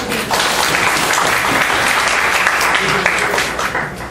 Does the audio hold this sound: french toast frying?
no